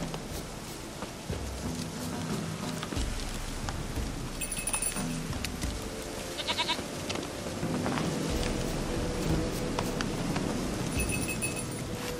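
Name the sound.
goat bleating in The Witcher 3 video game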